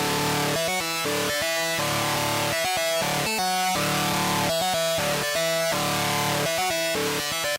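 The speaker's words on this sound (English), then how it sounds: "So these synthesizers that open up the beginning of the song sound like this." Dense, bright electronic chords from four layered synthesizers opening a rock song pulse in choppy rhythmic stabs, stacked into a thick, buzzing wall of sound that plays continuously.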